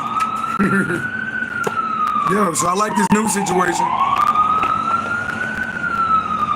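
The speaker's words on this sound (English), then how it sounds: "y'all hear them sirens?" A siren wails steadily in the distance, its pitch sweeping slowly up and down, while someone talks over it.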